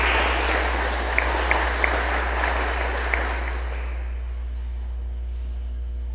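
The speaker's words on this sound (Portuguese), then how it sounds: "Pode aplaudir a palavra de Deus se você acredita." Church congregation applauding during a sermon, a steady wash of clapping that fades away toward the end, with a low hum underneath.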